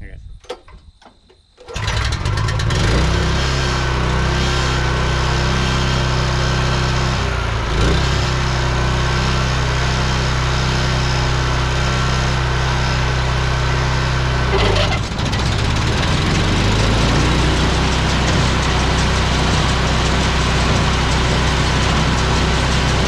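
A small stationary engine on a horse-drawn hay baler kicks over and settles into a loud, steady, buzzing run that continues close by. A brief shift in its note comes as it is put into gear.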